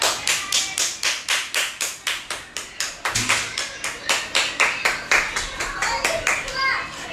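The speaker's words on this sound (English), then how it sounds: "I'm clapping" A single person claps their hands in a steady rhythm, about two to three sharp, close claps per second throughout, with a brief thump and some faint background voices partway through.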